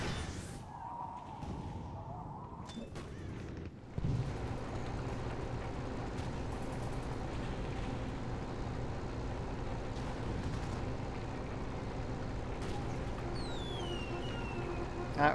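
Cannon fire in the Toy Soldiers video game: a sharp loud blast strikes a few seconds in, followed by sustained rumbling battle noise with scattered impacts and whooshes.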